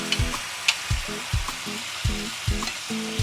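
Tempering fries in hot oil with tamarind and fenugreek, a close, lively sizzle broken by rhythmic stirring scrapes against the pan every half second or so.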